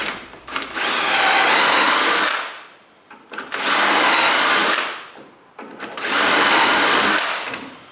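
A power drill bores dowel holes in wood, three separate bursts of loud whirring of about two seconds each, with short quiet pauses between them.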